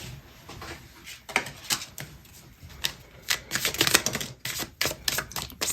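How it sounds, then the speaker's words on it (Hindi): Tarot-style cards are shuffled by hand and one is drawn for an advice reading: a run of crisp, rapid riffling snaps and flicks, close and fairly loud, with no one speaking. "एक एडवाइस कार्ड देखते हैं आपके लिए।"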